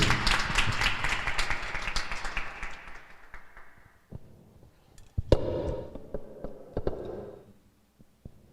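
Listeners at an ophthalmology department presentation give a round of clapping that fades out over several seconds, followed by a few scattered claps and small room noises.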